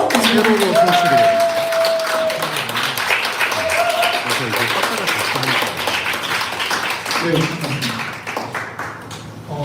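An audience at a talk concert claps as a dermatologist speaker is welcomed on stage, a sustained round of applause with a few sharp taps and tonal sounds mixed in.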